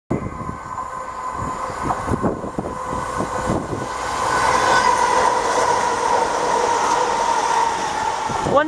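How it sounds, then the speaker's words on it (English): Class 68 diesel locomotive 68032 pulls away from Kirkcaldy station toward Edinburgh Waverley, a loud, close engine drone building steadily under rumbling, clattering wheels, with an announcement-like voice briefly in the background. "Now departing is 68032 to Edinburgh Waverley."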